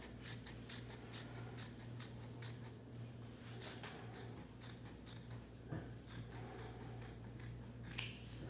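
Scissors cut through fabric for a baby blanket, making quiet, crisp snips that repeat at an even, brisk rhythm, with a faint low hum in the background.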